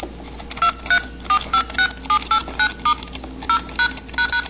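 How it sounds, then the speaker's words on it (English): Rapid series of short DTMF touch-tone beeps from a replica Esquire blue box, sounding in quick uneven bursts over a low steady hum. "So those of you with good ears can hear that I'm now playing DTMF."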